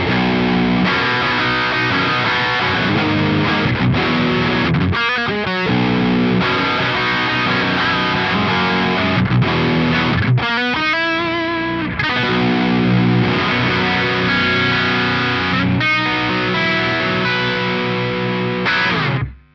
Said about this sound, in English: those four pedals, basically four different flavours of overdrive